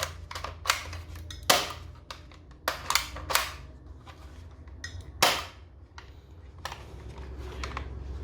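A toy rifle with blowback action fires in a string of sharp, close snaps with irregular gaps, some in quick pairs, a few louder cracks standing out over a faint mechanical hum.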